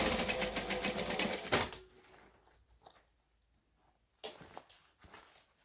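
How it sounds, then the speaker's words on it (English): A sewing machine chain-stitching a fabric piece runs loud and steady, its fast rhythmic whir stopping after about a second and a half, followed by quiet, scattered handling clicks and faint rustles of fabric. "I'm trying to chain stitch the one piece"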